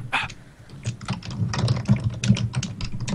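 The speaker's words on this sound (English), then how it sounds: "Someone is furiously typing away." Fast, furious typing on a computer keyboard during a podcast: a dense, irregular clatter of quick keystrokes, close and fairly loud, with no talking.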